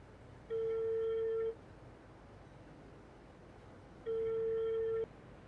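Two long electronic telephone rings, each about a second, separated by a pause, over a quiet background hiss.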